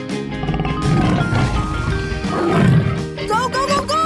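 A tiger roars in a 3D animal video game: a loud, growling roar in two rising surges over about three seconds, with game music and sound effects mixed in and a short bright cue at the end.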